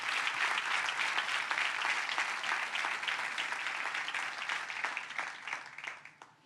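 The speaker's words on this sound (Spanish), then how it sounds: "Den un fuerte aplauso a Dios por eso." A church congregation claps loudly for several seconds, a dense sustained applause that thins and fades near the end.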